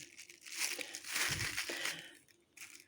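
Small plastic packets of cottage cheese are handled and squeezed, giving close crinkling and crumpling rustles that swell and fade in irregular bursts.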